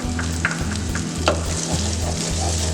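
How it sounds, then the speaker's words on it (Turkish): Ketchup being stirred into garlic in a pan for wet hamburgers, a close, steady frying sizzle over a droning low hum, with a few light utensil taps and scrapes. "ketçapımla birlikte karıştırıyorum"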